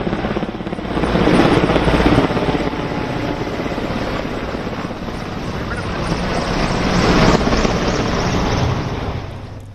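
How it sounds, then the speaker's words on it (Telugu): Military helicopters flying over a Republic Day parade rehearsal in Delhi, a steady loud rotor roar that swells toward the end, mixed with dense crowd or background noise and no clear speech. "ఆకాశంలో హెలికాప్టర్ల విన్యాసాలు"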